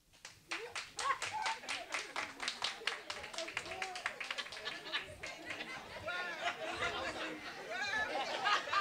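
Dense clapping from a comedy show audience mixed with chatter and scattered laughter, building in intensity toward the end.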